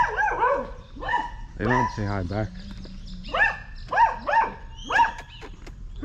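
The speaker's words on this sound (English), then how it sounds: "Wagging his tail and barking at me." A loose dog in a residential street in Panama barks repeatedly while wagging its tail, with sharp, fairly close barks and a drawn-out whine coming in irregular bursts, mixed with a person speaking nearby.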